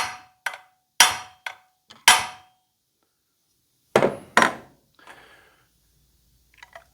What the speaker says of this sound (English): after I get the flywheel good and warmed up, smack it on the other side